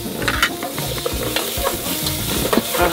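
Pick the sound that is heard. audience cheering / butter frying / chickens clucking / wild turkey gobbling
butter frying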